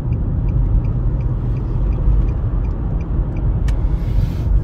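A 2010 Nissan Altima coupe cruises down a road after its throttle body and mass airflow sensor were cleaned. Heard from inside, a loud, steady low engine-and-road rumble continues without a break, with one faint click partway through.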